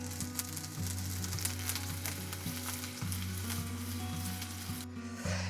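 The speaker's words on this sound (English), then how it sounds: "I've got a handful of sage leaves, and I'm going to fry those in some vegetable oil" Sage leaves crackle and sizzle in hot vegetable oil, a continuous close frying hiss with a low steady hum underneath and a brief quieter gap near the end.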